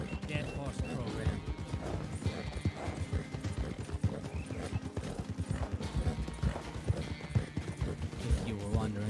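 Steady clip-clop of horse hooves at a quick gait over video game music, with a rhythmic, continuous beat throughout.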